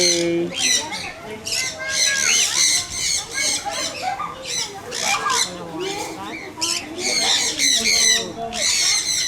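A large flock of birds at Ocean Park squawks loudly and continuously, harsh overlapping calls close by in a dense chorus, with people talking faintly among them.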